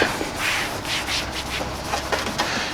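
A utility towel rubs tire and rubber cleaner into oxidized plastic car trim, giving soft, close scrubbing strokes in an uneven rhythm.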